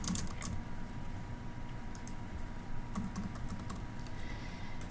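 Fingers type steadily on a computer keyboard while entering a first name into an online application form, producing close, light key clicks in irregular bursts with short pauses and no speech.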